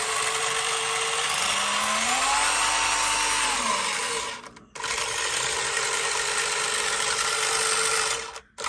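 Small electric motor and drive belts of an HPI RS4 Sport 2 RC car spin up, whining and rising in pitch, then run with a steady mechanical whir, briefly cutting out twice.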